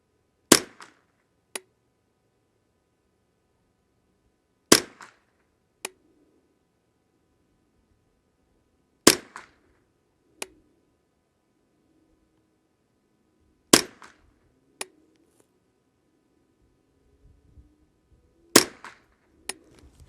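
A Ruger 10/22 rifle firing Exakt .22LR rounds for a five-shot group, with five sharp, loud cracks spaced roughly four seconds apart, each followed by softer clicks and brief echoes.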